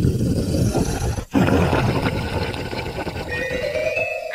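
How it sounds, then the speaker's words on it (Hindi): A deep, menacing growl used as a sound effect in a Hindi horror story. It is a steady, rumbling growl about four seconds long, moderately loud, with no voices over it. "तभी अचानक से किसी के गुर्राने की आवाज आती है।"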